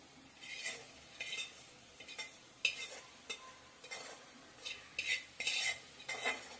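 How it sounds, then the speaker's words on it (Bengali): A utensil stirs fried fish roe into a pan of eggplant, peas, potato and bathua greens, making quiet, irregular scraping and clinking strokes against the pan with a soft sizzle underneath and no talking. "মাছের ডিমগুলো দিয়ে ভালোভাবে নাড়াচাড়া করিয়ে নিব।"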